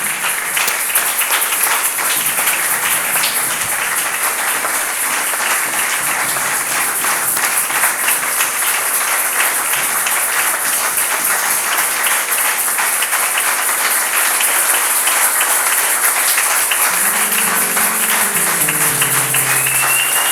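A church congregation applauds and cheers in praise of the Lord, a dense, steady wash of clapping and acclaim lasting throughout, with a few sung or sustained voices rising near the end.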